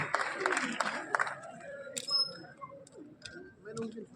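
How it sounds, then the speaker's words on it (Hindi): Applause and cheering from a crowd at a community award ceremony in Bikaner welcoming a minister, bursts of clapping fading under a speaker's voice over a PA. "एक बार जोरदार ताली बजाएं"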